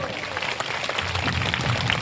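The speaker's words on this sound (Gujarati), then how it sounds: "એમની માટે જોરદાર તાળીઓ ચાલુ રહી હવે" Audience applause for Kajalben, a woman who carried farmers' voices, at a farmers' gathering; a steady, dense wash of clapping continues at a constant level throughout, with no pauses.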